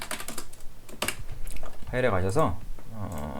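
Computer keyboard keys are pressed rapidly and repeatedly in quick clicking bursts for the Ctrl+Z undo shortcut, close and clear, with a person talking over the tapping.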